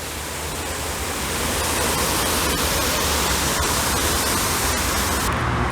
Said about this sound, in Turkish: Güzel bir şelale var.